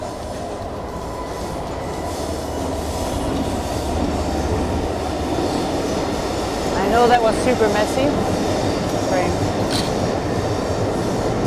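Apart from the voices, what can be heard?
train passing overhead on tracks at Battersea Power Station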